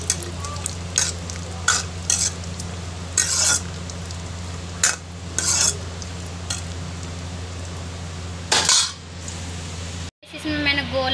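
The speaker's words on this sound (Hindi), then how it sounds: "ये अभी मैं इन्हें अच्छे से भून लेती हूँ, ब्राउन होते होने तक इसको लाल करूँगी" Cashews roasting in a little ghee in a pan, stirred with a utensil that scrapes and clinks against the metal in bursts over a steady close sizzle.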